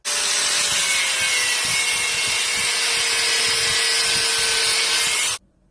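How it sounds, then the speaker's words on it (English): An angle grinder cuts steel on a blacksmith's leg vice part, a loud, steady high whine that holds constant for about five seconds and then stops abruptly, with no talking. "Now, I've got to lop off across here, so angle grinder time."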